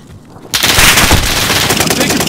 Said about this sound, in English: I'm taking fire here.